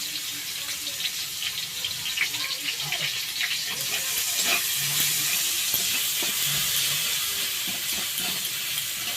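Chopped onion hits hot mustard oil already holding dried red chillies and cumin seeds for a tangra fish curry, giving a steady, loud, close sizzle and hiss that runs throughout, with faint scattered clatter and murmur beneath.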